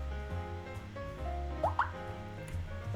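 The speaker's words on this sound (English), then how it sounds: "Oh, sorry for hearing my phone right there." A phone notification chimes briefly as two quick rising tones over a steady background hum, faint and mid-distance, heard during a Pokémon Showdown game session.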